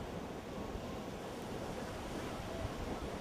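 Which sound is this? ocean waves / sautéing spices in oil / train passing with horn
ocean waves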